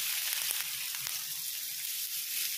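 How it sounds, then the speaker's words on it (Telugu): Sliced onions fry in two tablespoons of oil in a pan, making a soft, even hiss of sizzling with a few faint crackles and pops, and no speech. "ఉల్లిపాయలు ఎర్రబడే వరకు ఫ్రై చేసుకోవాలి"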